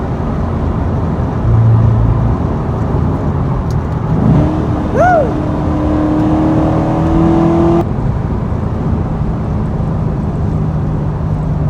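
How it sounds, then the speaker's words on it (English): A 2014 Chevy Corvette Stingray with a manual transmission downshifts, its engine blipping up in a quick rising rev that settles into a sustained higher drone before dropping back, heard loud from inside the cabin over road noise. "love the downshift."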